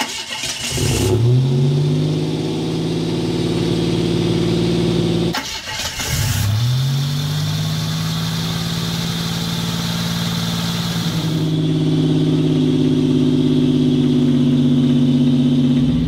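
A Buick Grand National engine cranks and catches, revving up before settling into a steady idle; it restarts a second time and idles again, loud and close, with the idle rising slightly toward the end.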